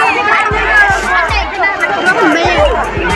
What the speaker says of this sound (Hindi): यहाँ का मेला का नज़ारा बहुत भीड़ है मेला में